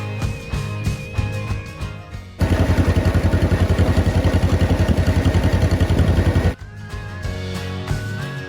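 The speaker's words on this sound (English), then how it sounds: "Wow, look. We're on the tractor" A farm tractor pulling a load of riders at Underwood Family Farm chugs loudly and close for about four seconds with a rapid, even engine pulse, set between quieter stretches of rumble and clatter.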